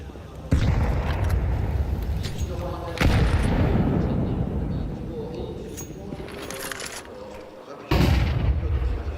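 Stacked grenade explosions in a Counter-Strike 2 match at the Shanghai Major 2024, three loud booms spaced a few seconds apart with lingering rumble, under continuous caster commentary.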